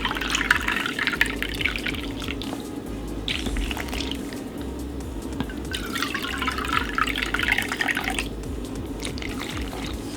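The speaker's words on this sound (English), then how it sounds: "Some plant milk." Plant milk pours steadily into a bowl for vegan French toast, a continuous liquid trickle and splash with a few drips, close and clear, no talking over it.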